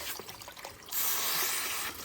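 Water rushes into a garden fountain in Southern California, building suddenly about a second in into a loud, steady, close splashing flow after quieter trickling.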